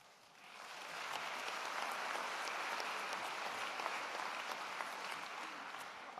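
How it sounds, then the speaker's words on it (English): Applause from the audience at a university convocation ceremony swells in quickly and holds as a dense, steady wash of clapping for several seconds before easing slightly. "I know you're just applauding the pointy hat."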